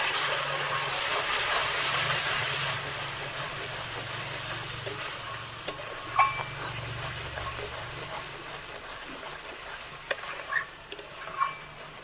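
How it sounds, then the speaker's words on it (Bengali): Spices with cumin powder, garam masala and salt being fried and stirred for a Kashmiri chicken curry, a continuous sizzle with scraping strokes and a few sharp spoon taps against the pan. "1/2 চামচ জিরের গুঁড়ো, 1/2 চামচ গরম মশলা গুঁড়ো, পরিমাণ মতো লবণ দিয়ে ভালো করে মশলাটা কষবো।"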